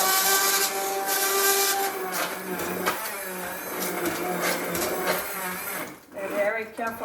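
An immersion blender purees cooked potatoes and carrots in a hot pot, whirring steadily and loudly with shifting pitch as the blade works through the soft vegetables, while a person talks over it.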